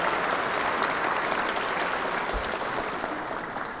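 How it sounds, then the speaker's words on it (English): A large keynote audience breaks into loud, close applause, a thick wash of clapping that holds steady and eases only slightly toward the end. "That's a good clap time."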